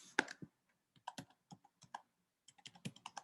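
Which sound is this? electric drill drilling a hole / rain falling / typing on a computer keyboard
typing on a computer keyboard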